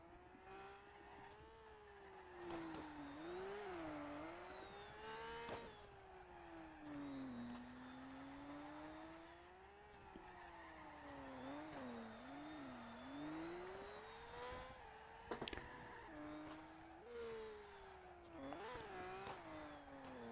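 Simulated drifting car in CarX Drift Racing, D1 time attack, with a continuous revving engine whose pitch rises and falls through shifts and slides, plus occasional tire squeal and skid bursts, loud and steady throughout.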